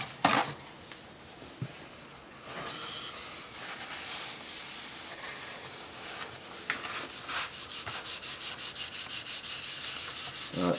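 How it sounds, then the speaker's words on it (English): Wet sanding a digital-camo Peavey Patriot guitar body with 600 grit sandpaper, rhythmic rubbing strokes that start irregular and settle into fast, even back-and-forth passes, close and clear with no talk. "I'm starting off with 600 grit paper."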